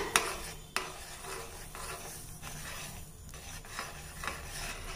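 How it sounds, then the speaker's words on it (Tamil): A ladle stirs semolina into boiling water in a pot, giving soft, scraping swirls close by with a few sharp clinks against the metal rim over a faint background hiss. "கொஞ்சம் கொஞ்சமாக தூவிக்கிட்டே ஒரு கரண்டியால் அப்படியே கிளறி விட்டுக்கணுங்க."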